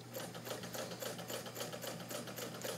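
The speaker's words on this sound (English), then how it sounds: "Got three layers. Went right through, no problem. And again, I can make the machine sew faster." A 1950s White model 1563 sewing machine stitching steadily through three layers of fabric, a fast, even mechanical whir with rapid rhythmic clatter, close and alone.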